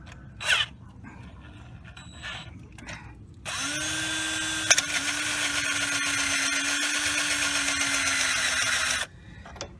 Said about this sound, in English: I'm gonna drill through here.